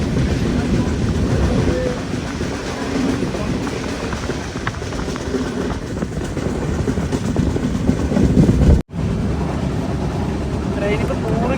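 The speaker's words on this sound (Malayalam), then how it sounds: "ട്രെയിനിപ്പോൾ 100 km/h സ്പീഡിൽ തന്നെയാണ് പോകുന്നത്" Mangala Lakshadweep Express running at about 100 km/h, heard from inside an LHB sleeper coach: a steady loud rumble with clickety-clack of the wheels and a brief sharp dropout near the end.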